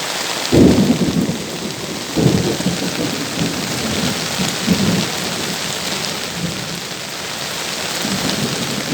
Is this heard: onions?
no